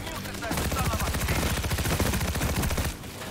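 Rapid automatic gunfire in the video game World War Z, a dense, loud burst of closely spaced shots lasting a few seconds before cutting off.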